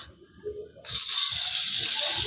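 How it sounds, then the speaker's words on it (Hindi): Water pours suddenly from a tap into a pan while cooking roti pizza, a loud steady gush starting after quiet kitchen clatter and continuing to the end. "अब थोड़ा सा पानी।"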